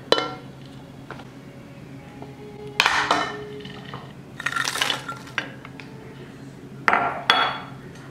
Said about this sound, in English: So now I'll add in my 2 cups of frozen broccoli.